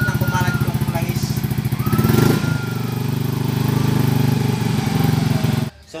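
A Yamaha Mio 125 scooter engine runs loud and close with a fast, even putter, then is revved higher and held at a steady drone before it cuts off abruptly near the end.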